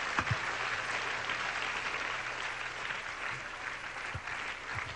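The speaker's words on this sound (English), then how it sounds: "Let us once again clap our hands to the Holy Father." A worship service congregation claps their hands together in a steady, fairly quiet, continuous patter of many hands, with a few louder knocks and a low hum underneath.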